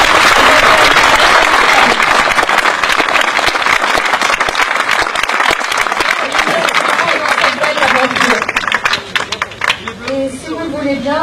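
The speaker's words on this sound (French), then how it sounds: "Vous pouvez les applaudir très fort." An audience claps loudly for red-clad volunteers at La Belle Epoque day in 2015, a thick sustained round of applause that thins toward the end as a voice begins speaking over it.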